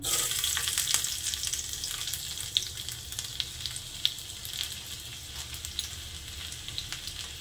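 Chopped garlic frying in ghee heated in a thin bowl, a soft continuous sizzle with scattered crackles and pops, fairly quiet and close, with no talking.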